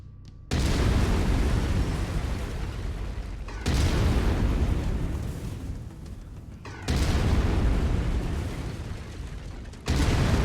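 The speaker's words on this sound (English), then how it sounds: "I've mapped the autocannon to Weapon Group 1. You're free to fire whenever you're ready." Autocannon fire from a mech in the video game MechWarrior 5: Mercenaries, loud booming bursts in three long sustained volleys separated by brief drops, with no talking.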